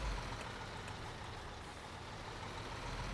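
A truck drives in Bau Simulator, its engine giving a steady low rumble with constant broadband road and motor noise throughout, fairly quiet and unbroken, with no talking.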